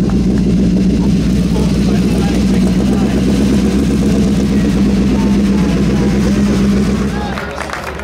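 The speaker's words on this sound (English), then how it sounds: "The next one is a lay-down engine, Offenhauser, front engine." Offenhauser lay-down front-engine race car, the one driven in a rookie season at Indianapolis, running at a concours event at Pebble Beach: a loud, steady engine drone under crowd chatter, easing off near the end.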